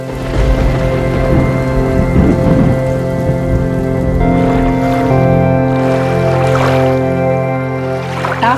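Storm at sea with heavy rain drumming on a surface and waves sloshing, loud and constant, layered under sustained musical tones throughout.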